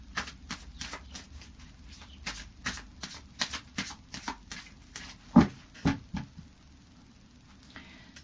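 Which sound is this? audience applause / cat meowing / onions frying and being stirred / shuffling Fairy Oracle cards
shuffling Fairy Oracle cards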